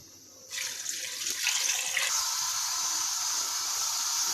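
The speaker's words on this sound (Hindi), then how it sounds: "अब इसमें हम 6 गिलास पानी डालेंगे।" Water gushes steadily into a pressure cooker holding beef, ginger-garlic paste and spices for hareesa, starting abruptly and continuing as a close, constant splashing pour.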